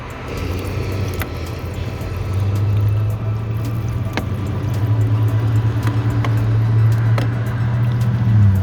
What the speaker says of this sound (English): take off the radiator cap. It's nice and cool, so should have no problem. And pour in some water.